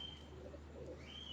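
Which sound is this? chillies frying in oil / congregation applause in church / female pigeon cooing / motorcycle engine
female pigeon cooing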